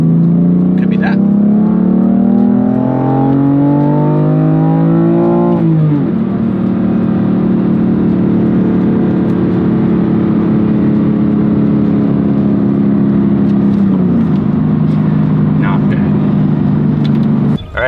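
A BMW F80 M3 on a test drive, heard from inside with a steady engine drone and road roar, climbing through gears with clear shift drops; a voice talks over the car at times.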